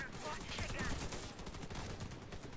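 Dense rapid gunfire rattles in the online shooter Warface, bursts of shots packed together in a busy, fairly quiet game mix with some voice underneath.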